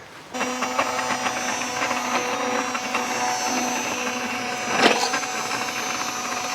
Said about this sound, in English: my immersion blender